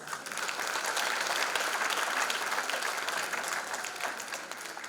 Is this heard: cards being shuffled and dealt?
no